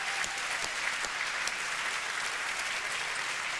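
An audience at the Gala Les Olivier 2005 applauds with a dense, steady wash of clapping from a large crowd that holds evenly throughout.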